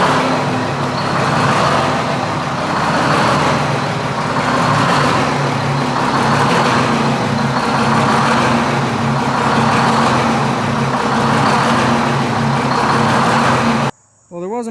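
The V8 engine of a 1973 Mack R700 truck runs after being fired up, a loud, close, rumbling idle with a slow rhythmic throb that pulses evenly before cutting off abruptly near the end.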